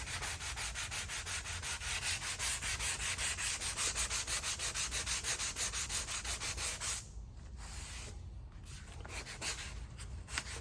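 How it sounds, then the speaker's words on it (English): Rhythmic back-and-forth sanding on a Stew Mac Les Paul guitar body build, close and steady strokes continuing throughout, with a brief change in texture near the end. "I probably should have sanded this down super smooth and get all those indentions out."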